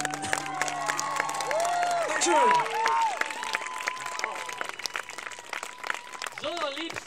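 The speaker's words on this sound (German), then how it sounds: "Applaus für uns." Crowd applause and cheering follow a fire show at the Spandau Citadel, a dense wash of clapping and shouts at steady loudness, with someone speaking over it close by.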